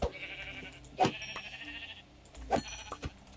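Three short bleats from a black sheep in Minecraft, spaced about a second or more apart over a faint background hum, with no speech.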